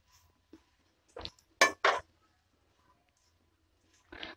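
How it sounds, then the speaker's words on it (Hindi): Spices are mixed into poha in a pan over a low gas flame with a few sparse spoon clinks and scrapes, spread out with quiet gaps between them, and no talking. "मसाले मिक्स करेंगे"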